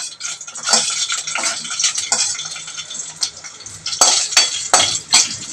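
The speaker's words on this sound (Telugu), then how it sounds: "ఎండుమిరపకాయలు వేసుకుందామండి" Dried red chillies fry in hot oil in a pan, with crackling sizzle and repeated metal spoon scrapes and clinks against the vessel, loud and close, no talking.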